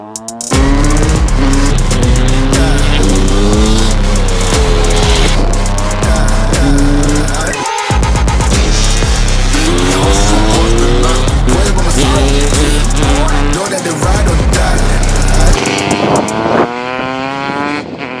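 A Husqvarna WR250 motorcycle revs hard and repeatedly up and down through the gears on a supermoto race track, loud and continuous, with a brief dip as it shifts.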